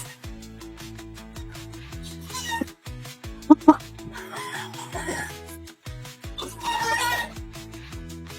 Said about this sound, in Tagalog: Ganda manok.